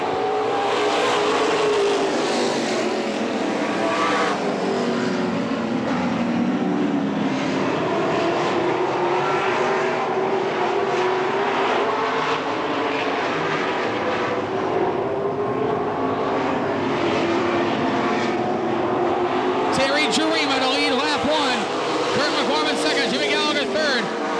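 Race cars racing at Tri City Motor Speedway, a continuous loud roar of several engines rising and falling as the field circles the track, with a commentator talking over it throughout.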